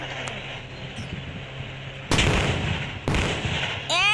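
Gunfire in a first-person shooter game, two loud sharp shots about a second apart that cut in over a steady background hum, followed by a third burst at the end.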